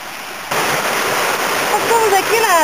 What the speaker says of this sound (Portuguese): Terceira cachoeira aqui do